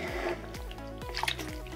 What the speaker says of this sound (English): Oh, it's like splashing everywhere, guys.